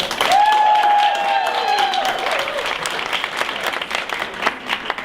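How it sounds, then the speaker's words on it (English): A burst of clapping from an audience, fairly close and steady, fading a little toward the end, with a brief tonal whistle or feedback near the start. "let's give a round of applause"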